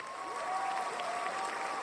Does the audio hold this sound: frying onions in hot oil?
no